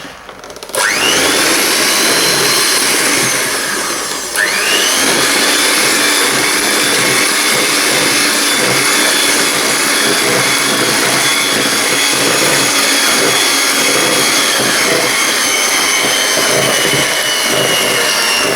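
An electric mixer beats butter for a Filipino-style chiffon cheesecake, giving a loud, steady whirring drone that runs almost without a break, with one short dip in pitch and force partway through.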